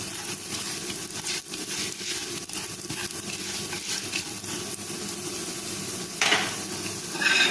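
Fennel, turmeric and red chili powder roast in a pan with a soft continuous sizzle and scraping stirs, moderately close and with no talking.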